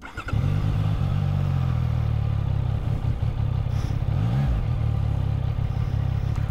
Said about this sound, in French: le petit bruit moteur qui va bien